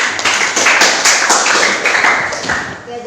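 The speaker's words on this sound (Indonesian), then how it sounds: "Silakan beri tepuk tangan dulu anak-anak." Students in a classroom applaud together, a close, loud burst of rapid clapping that keeps up steadily and tapers off toward the end.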